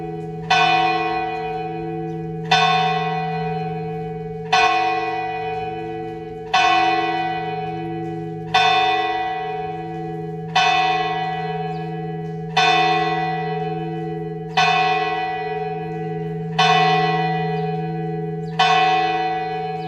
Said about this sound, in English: hoping that the 12 o'clock bells ring